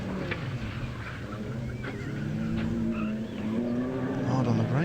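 Rallycross cars brake hard into a corner on a club championship round, with tyres scrubbing and engines growling at a distance while a commentator talks over the racing.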